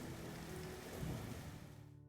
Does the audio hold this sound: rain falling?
yes